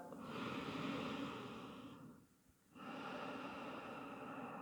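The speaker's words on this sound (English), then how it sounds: "Let's take one more big breath." One deep yoga breath: a long, airy inhale, a brief quiet pause, then a full, steady exhale, close and soft with nothing else around it.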